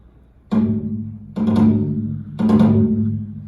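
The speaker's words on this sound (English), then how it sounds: "Which takes us to our final drum, the largest of them, which is the Japanese odaiko." A large Japanese odaiko drum struck three times at steady intervals, each deep boom ringing with a long, heavy resonant decay, loud and alone with no talking.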